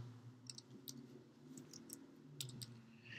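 Computer mouse clicks, soft and close, repeating irregularly over a low steady background hum with no talking.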